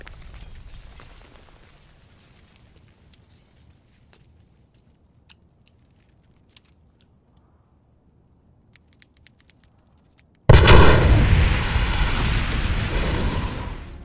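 Hospital explosion from the film The Dark Knight: a sudden, loud, broadband blast erupts after a long near-silent stretch with faint scattered ticks, then roars on steadily until the end.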